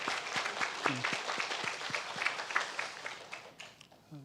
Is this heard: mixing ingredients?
no